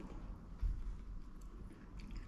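Close-up chewing of crunchy dressed-up Heinz ravioli with pesto, tomato and courgette, a soft steady mashing with one firmer bite near the start, alone without talk.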